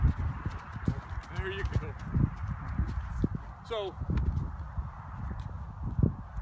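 Horse hooves clip-clop steadily at close range on a ground where young horses are running around, with a person talking briefly over the hoofbeats and a few whinny-like calls mixed in.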